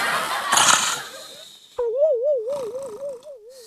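A man snoring, with a rough, wavering nasal drone that rises and falls in a steady wobble after a brief burst of noise, close and fairly loud.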